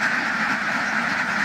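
Dense clamour of many ducks on a duck farm in Dashmina, Patuakhali, Bangladesh, a flock of around 1200 birds, forming a steady, continuous chorus of overlapping quacks close by.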